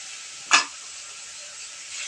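Ginger and cumin paste mixed with a little water hits a hot pan with one sharp, loud sizzle burst, then settles into a steady close hiss with no voices.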